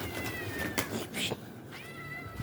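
A cat meows loudly a couple of times, drawn-out and plaintive, close up against a noisy background.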